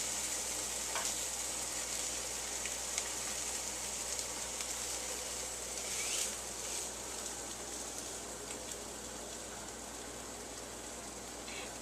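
French toast frying in a long skillet, a steady soft sizzle and crackle at close range with faint scraping from a spatula and no talking.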